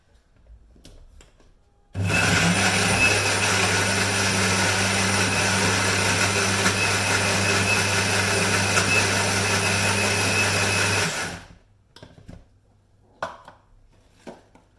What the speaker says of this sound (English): I'm going to blend it together